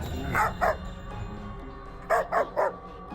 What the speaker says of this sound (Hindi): बुरी तरह से डरकर भौंकने लगा